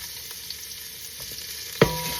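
Ginger and garlic frying in a pan give a faint steady sizzle, and near the end comes a brief louder clatter of stirring.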